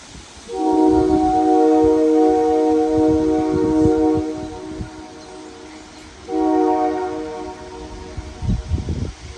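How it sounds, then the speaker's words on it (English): A heritage railway train on the York Durham Heritage Railway sounds its horn in two long, loud blasts with steady rumbling between, the engine noise lingering after the second blast. "After 20 minutes of waiting, the train came back."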